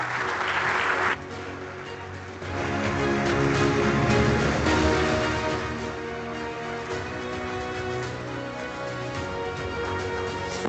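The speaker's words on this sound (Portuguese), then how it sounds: "peço-vos um aplauso, por favor, para Ana Cristina Sousa" An audience at a safety conference applauds a pilot with sustained, dense clapping that holds for several seconds, fairly loud and unbroken, with no speech over it.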